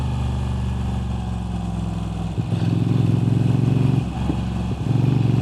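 A Moto Guzzi V7 Stone with an upgraded aftermarket exhaust idles with a deep, steady thump, then blips the throttle into louder throbbing revs twice, close and prominent with no talking.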